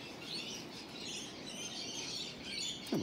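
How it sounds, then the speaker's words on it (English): A butcher bird calls in the open while wild kookaburras sit nearby. Faint, thin chirps rise over a soft outdoor hiss, with a sharper rising note near the end and no talking. "little butcher bird just come in as well"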